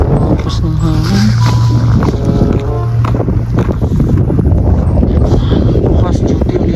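Strong wind from a heavy winter storm with hail in Canada roars and buffets the microphone continuously, with scattered knocks and rattles mixed in.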